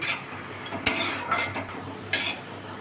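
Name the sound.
frying lentil dumplings (bori) in oil in a wok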